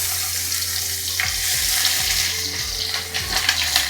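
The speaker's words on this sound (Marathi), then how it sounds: "आपण कांद्यासारखा करूया तळूया जिरं टाकलं हिंग टाकला कढीपत्ता आणि सोबतच कांदा पण टाकूया" Onion frying in hot oil with cumin, asafoetida and curry leaves in a home kitchen, giving a steady loud sizzle broken by several scraping stirs of a spoon against the pan, with no talk.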